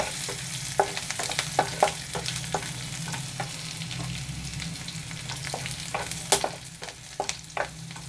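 Green chillies frying in hot oil with toasted cumin seeds, a steady close sizzle broken by scattered crackles and stirring clinks, no voices.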